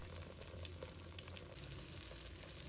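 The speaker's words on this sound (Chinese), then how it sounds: "翻过面后，再把它煎一下" An oyster and egg omelette, freshly flipped, fries gently over low heat in a pan, giving off a soft, even sizzle with faint crackles. No voices break the quiet, steady hiss.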